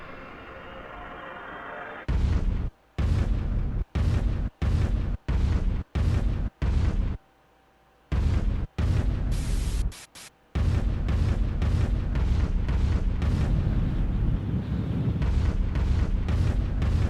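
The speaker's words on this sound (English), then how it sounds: "Shotgun." Shotgun blasts in the video game Deltarune: a series of loud, booming bursts in a stuttering rhythm, separated by brief near-silent gaps, then a sustained roaring barrage.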